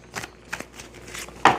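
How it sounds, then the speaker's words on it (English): A tarot card deck is shuffled in a short burst of riffling and soft slaps, with a few quick bursts and a louder final snap of cards near the end, close and with no talk. "let's give it a good shuffle."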